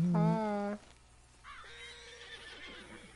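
A horse neighs in Red Dead Redemption II, one loud, bright whinny up close at the start, followed by quieter breathy snorting and low ambient game sound.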